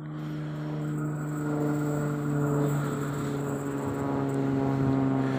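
A TLK Pobrzeże passenger train from Łódź Fabryczna to Kołobrzeg, hauled by electric locomotive EP07-301, pulls into Warszawa Wschodnia station with a steady, droning electric motor hum that grows slightly louder as it approaches.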